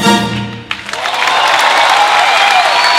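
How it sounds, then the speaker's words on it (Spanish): An audience applauds an orchestra after a song, sustained dense clapping rising within the first second and holding loud and steady throughout, after a fading musical tail. "Aplauso para esta orquesta maravillosa."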